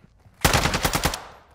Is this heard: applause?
no